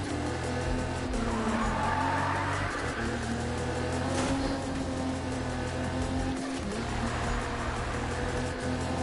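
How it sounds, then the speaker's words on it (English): A car in a PS4 racing game drifts with a steady engine drone and long screeching tire squeals, loud and continuous throughout, without any talk. "Drifting like a champ. You see that, guys? That's how you drift."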